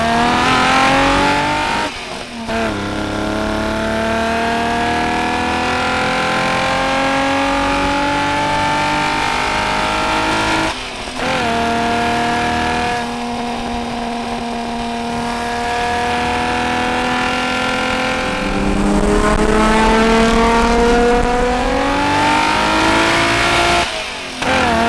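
BMW E30 327i accelerating hard through several gears, engine and induction note climbing in pitch with each pull, then dropping sharply at the shifts, loud and close from inside the car.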